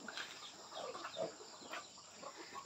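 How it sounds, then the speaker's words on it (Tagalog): Chickens clucking at a moderate distance in a rural province in the early morning, scattered short calls over a steady farmyard background, with no talking. "grabe po ning dapita kadaghang manok ay"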